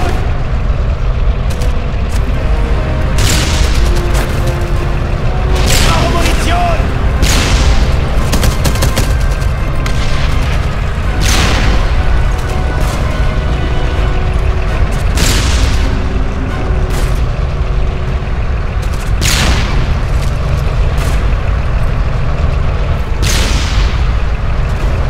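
Panzerfaust rocket explosions and rapid gunfire in the World War II shooter game Enemy Front during the Siege of St Cross: a loud, continuous barrage of booms and volleys with heavy blasts recurring every few seconds and no talk.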